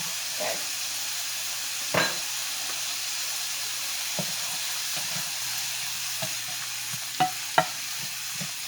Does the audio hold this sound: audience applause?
no